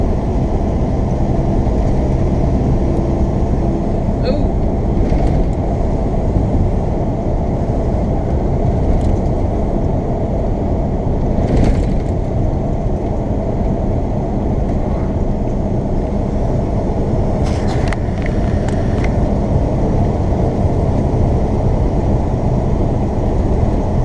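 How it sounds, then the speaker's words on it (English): A truck spreads gravel on a county road, producing a steady, loud rumble with gritty noise that runs unbroken throughout, with no voices. "Somebody spreading gravel for a county road."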